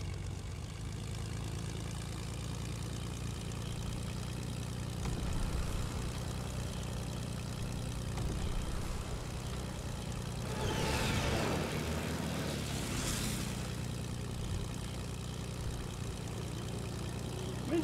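A damaged propeller plane in Fortnite drones steadily with a low, rough engine hum, loud and constant, rising slightly as it passes through a brief whooshing sweep.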